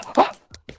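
A person imitating a dog with a few short yelping woofs, the first louder and followed by two quicker, softer yips, close to the mic.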